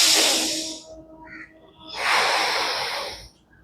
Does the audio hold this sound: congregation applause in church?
no